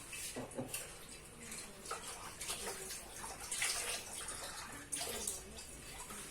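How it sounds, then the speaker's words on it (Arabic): Water is poured into a potato and oat batter in a home kitchen, a soft continuous trickle and splash with faint clinks, quiet and close, and no talking. "نزيد شويه تاع الماء."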